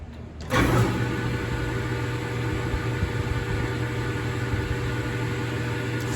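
A Grizzly G0824 lathe, freshly given an oil change, switches on and settles into a steady, smooth motor and gear hum. The hum holds even and continuous after a brief rise at start-up.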